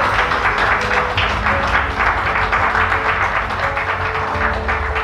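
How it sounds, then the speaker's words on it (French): Ceremony audience clapping in a loud, continuous round, the claps partly falling into a shared beat over a steady room hum. "encore des applaudissements s'il vous plaît"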